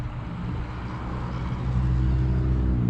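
A vehicle engine runs at full throttle after a 48RE transmission repair, a dense, steady low roar that builds slightly toward the end, heard close and alone.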